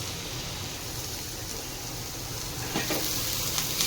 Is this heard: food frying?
yes